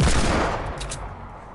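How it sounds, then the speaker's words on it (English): A loud burst of rapid gunfire from Fortnite opens at close range, then fades quickly with a short echoing tail. "You hear that shooting?"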